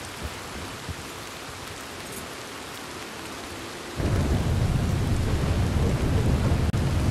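Thunderstorm in Red Dead Redemption II: soft rolling rumble at first, then at about four seconds a loud, steady roar of heavy rain and thunder takes over and keeps going with no voices.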